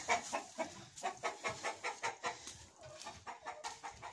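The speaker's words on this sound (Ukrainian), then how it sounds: "Ось, позбирала яйця, так вони розкричалися. Курочки і півники." Hens and roosters cluck agitatedly in a rapid, uneven rhythm of short repeated calls, fairly faint and slightly distant, with no talking over them.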